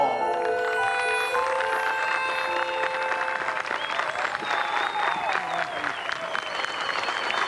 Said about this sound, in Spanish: me lo recibe con un fuerte aplauso